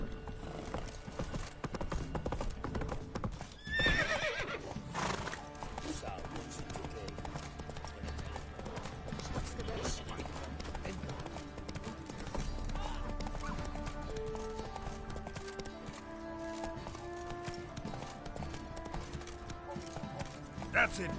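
In The Witcher 3, the horse Roach gallops with rapid, continuous hoofbeats and creaking tack, a brief snort or whinny near the start, all set against a low ambient bed.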